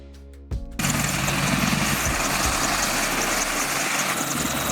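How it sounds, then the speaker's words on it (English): A military helicopter starts with brief low tonal hums, then bursts into a continuous loud rotor and turbine roar that holds steady and close. "Military helicopter."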